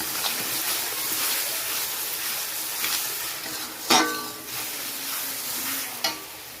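Mutton sizzles steadily in a hot pan with Kashmiri chili powder as it is sautéed and stirred, a continuous close frying hiss broken by a couple of sharp scrapes of the spoon.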